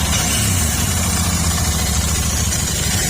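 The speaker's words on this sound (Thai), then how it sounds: "ฟังเสียงเครื่องยนต์นะครับ" A Royal Enfield Interceptor 650 motorcycle engine idles steadily up close, a constant low rumbling throb with no talking.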